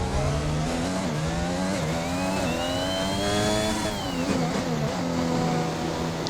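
An F1 car in the game F1 21 entering the pits at Shanghai, a loud steady engine whine that climbs then drops in pitch as it slows, sustained and close with no voices.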